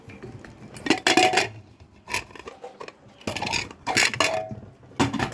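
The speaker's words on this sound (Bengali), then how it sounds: "এখন ঢাকনা খুলে দিচ্ছি" A pressure cooker lid is worked open after cooking meat, giving a series of sharp metallic clanks and scrapes in irregular bursts, close and fairly quiet, with no voices.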